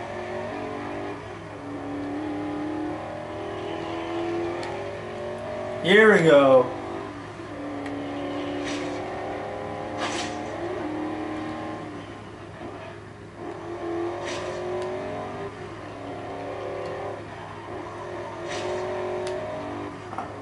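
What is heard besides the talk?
7-liter twin turbo car engine revving, Forza Horizon 2 video game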